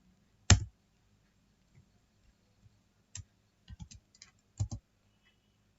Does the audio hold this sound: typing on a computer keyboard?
yes